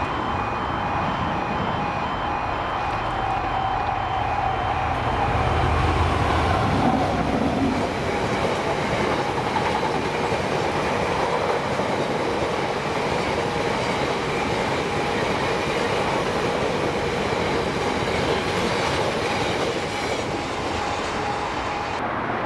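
A freight train of tank wagons rumbles past continuously, with steady wheel noise and rhythmic clatter on the rails, plus a brief low engine drone near the start.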